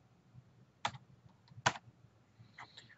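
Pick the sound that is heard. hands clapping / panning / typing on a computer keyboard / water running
typing on a computer keyboard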